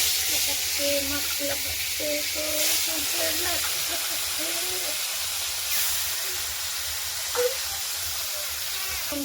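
Fish rubbed with salt and turmeric fries in hot oil in a wok, giving a steady close sizzle with faint tonal sounds drifting over it.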